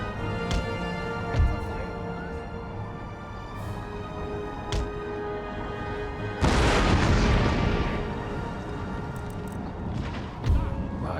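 Artillery fire in the strategy game Empire Total War: scattered low booms through a steady battle din, with one heavy, sustained blast rolling out around the middle, all without any speech.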